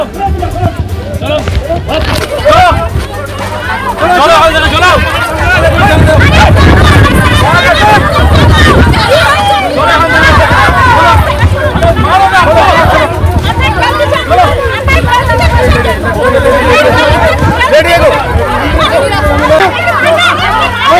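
A dense, loud crowd at a street protest clashes with police, a continuous babble of many shouting voices with jostling and scuffling noise throughout.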